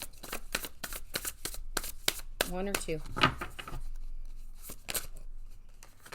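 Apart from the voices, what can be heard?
shuffling tarot cards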